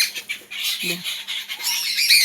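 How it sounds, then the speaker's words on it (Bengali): Pet birds squawk and screech in a noisy, shrill burst of repeated calls, with a brief lower sound partway through and no talking. "দেখো চিৎকার চেঁচামেচি করছে পাখিগুলো, দেখো দেখো উঠছে কিরকম করছে।"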